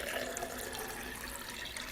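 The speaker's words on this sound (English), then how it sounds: "Then you're going to add your water." Water runs steadily into a flower container for a floral arrangement, a continuous close splashing rush with no pauses.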